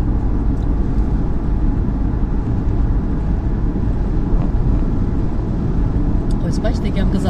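A car drives along the road, a steady loud low rumble of engine and tires throughout, with a person talking over it.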